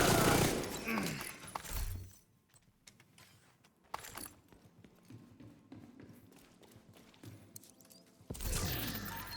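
Friendly gunfire in a shooter video game: scattered sharp cracks and rapid bursts of shots under loud, dense game noise, with louder stretches at the start and end.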